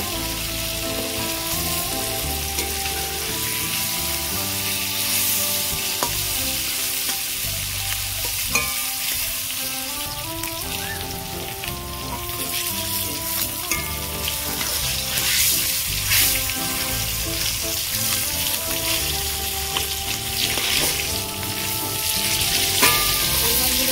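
Koi fish fry in hot oil in a pan, giving a continuous close sizzle and crackle while the fish are stirred and turned, with occasional scraping and no talking.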